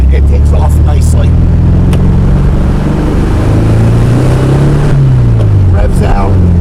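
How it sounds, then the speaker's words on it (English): A 1968 VW Karmann Ghia revs and pulls away, its loud engine note climbing, dipping, then rising again, close and dominant throughout. "And it takes off nicely."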